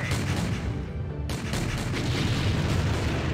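Artillery fire in the strategy game Empire Earth, dense rumbling booms and blasts overlapping in a continuous barrage, loud and heavy with a brief lull partway through.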